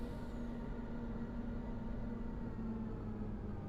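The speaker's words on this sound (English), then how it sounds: "I just like the noise, the engine noise." An electric truck in Farming Simulator 25 gives off a low, steady engine hum with a faint tonal whine, heard quietly and without variation.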